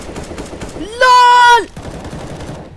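Game gunfire from CS:GO 2, a dense volley of shots across the clip with a sustained bright tone in the middle, under excited voices and laughter.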